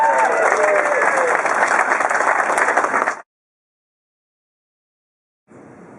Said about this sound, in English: you can cheer for that